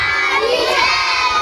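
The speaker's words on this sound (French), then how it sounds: "impossible de rater l'école ni les cris des enfants qui récitent leurs leçons" Schoolchildren in a school at the entrance to the town of Bosso shout and chant their lessons together, a dense, continuous crowd of young voices filling the whole stretch, loud and close.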